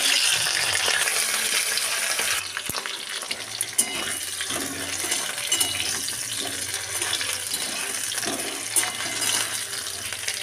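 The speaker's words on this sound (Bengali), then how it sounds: "নিয়ে এখানে আমি একটু বড় সাইজের আলু কেটেছি, আলুগুলোকে ভালো করে ভেজে নেব।" Large chunks of potato fry in hot oil for an egg curry, making a dense, continuous sizzle with occasional scraping and clinks from stirring, close and with no talk.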